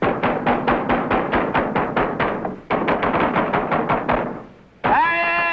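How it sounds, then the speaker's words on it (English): Repeated heavy pounding on a closed garage door, a fast run of loud thuds that pauses briefly near the middle, resumes, then gives way to a sustained tonal sound at the end. "We'll just pound on the door until somebody hears us."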